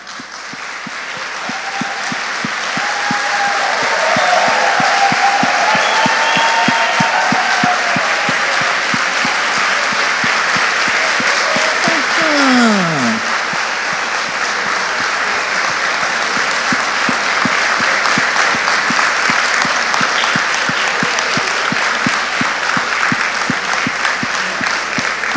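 A church congregation claps with their palms in a long, steady rhythmic stream of even beats. A few faint voices and cheers rise under the clapping.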